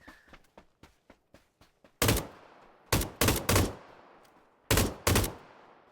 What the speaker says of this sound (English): I was missing all them shots because I'm trying to shoot him at far range with an LMG